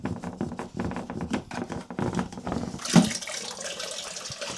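An opened water tap runs with a steady splashing flow in the test of a Koer KSR-12 pump pressure controller set up for dry-running protection, and a sharp click near the three-second mark marks the controller switching the pump on.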